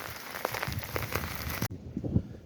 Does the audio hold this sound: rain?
yes